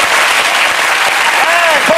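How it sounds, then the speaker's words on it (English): A studio audience gives a loud, sustained round of applause at a Christmas television show, dense clapping throughout with a few whoops rising over it. "a big, big round of applause"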